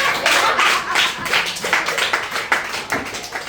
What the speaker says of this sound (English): People should give a clap for her.